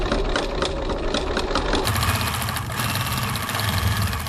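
Domestic sewing machine running a straight stitch at 3.4 length, then locking off the thread; a steady close mechanical whirr with a brief change in pace partway as the stitching locks, no talk.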